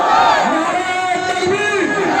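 A rally crowd roars a slogan in unison, a dense, loud, sustained mass of voices that swells and falls together in rhythmic chanting at a political gathering in Hyderabad.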